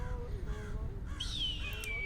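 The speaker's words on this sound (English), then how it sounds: "as well as a crow that's going to come in" A crow caws in a mountain-environment soundscape played back in a room demonstration, one clear descending call after a low background hum, with a bird cry and ambient highway rumble underneath.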